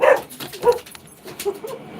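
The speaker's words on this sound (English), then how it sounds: "Was that his dogs?" Dogs barking and yipping somewhere nearby, several sharp barks in an irregular burst with a whimpering tone, fairly loud over a quiet background.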